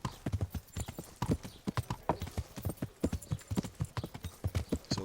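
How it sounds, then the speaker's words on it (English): Horse hooves gallop in the medieval video game Kingdom Come Deliverance, a quick, regular series of close, crisp clip-clop strikes running throughout. "So ride, my horse, ride!"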